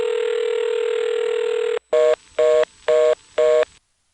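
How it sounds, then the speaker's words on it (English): Telephone signalling tones over a trunk line from a 1977 step-by-step and ESS exchange in Smyrna, Georgia: a steady tone for nearly two seconds, then four evenly spaced, loud tone bursts. "they invented a whole new set of telephone tones that sounded really nice"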